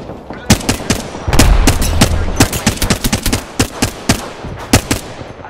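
Rapid automatic gunfire from an Apex Legends match, loud and close, with dense sharp reports in irregular bursts that run throughout and thin out into spaced single shots toward the end.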